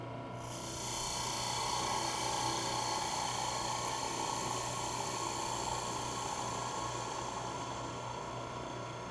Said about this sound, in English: Now I'll use my skew chisel to square the end.